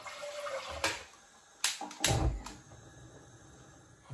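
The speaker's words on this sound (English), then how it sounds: "Okay, so the water's now in the pan" Spring water pours into a saucepan on a kitchen hob for home winemaking, heard as quiet splashing bursts and gurgles with brief louder surges near the middle.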